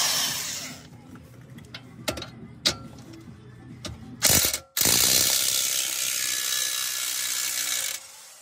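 A 21 mm wrench ratcheting as a shock is removed from a Dodge Ram, giving several sharp clicking strokes, then a louder whirring mechanical burst that runs steadily before cutting off.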